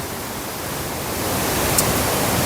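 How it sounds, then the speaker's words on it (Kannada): Didupe waterfall in the Western Ghats roars in a constant, loud wash of broadband noise that swells slightly, with no voices over it. "ನೋಡಿ ಇಲ್ಲೇ ಕಾಣ್ತಾ ಇದೆ ಇನ್ನು ಫಾಲ್ಸ್ ಅದೇ ಫಾಲ್ಸು ಕ್ರೇಜಿ ಫಾಲ್ಸ್"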